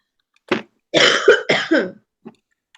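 A single person coughs several times in a close, loud burst: one short cough, then a rough run of three hacking coughs and a faint final one.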